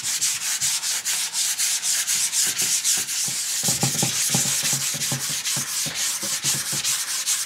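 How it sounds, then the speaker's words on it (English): Pre-made art panels from Blick get a quick hand sanding, a steady run of rhythmic rasping strokes that are close, loud and continuous, with no voices. "I bought some panels through Blick, so we're just gonna give these a quick sand"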